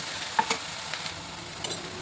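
Ginger garlic paste and turmeric frying in a pan for paneer masala curry while being stirred, a low continuous sizzle with a few faint scraping taps of the spoon.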